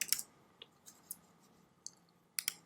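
A few sharp, quiet mouse clicks, spaced irregularly in a near-silent room while working in Adobe Acrobat, with a tight pair of clicks near the end.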